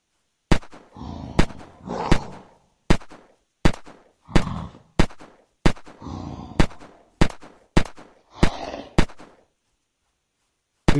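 Gunshots from a boss-zombie fight in the game Unturned, a dozen or so loud, sharp reports spaced about half a second to a second apart, each with a short rumbling tail, then quiet near the end.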